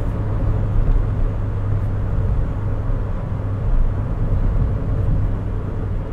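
A Toyota Yaris 1.33 Dual VVTi hatchback, rated at 99 horsepower, accelerates hard past 4,000 rpm, giving a continuous loud engine roar mixed with road rumble and no talk.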